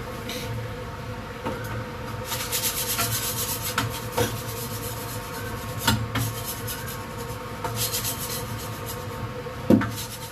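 A scraper rubs and scrapes across a kitchen surface during cleanup after cooking curry udon, giving repeated short, dry scratching strokes at close range over a quiet background.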